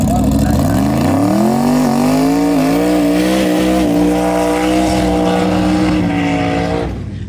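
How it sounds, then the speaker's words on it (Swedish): At a street racing event a car holds a long, loud burnout, its engine climbing to a sustained high roar and staying there for several seconds before trailing off, heard close and overpowering. "Dude, big burnout."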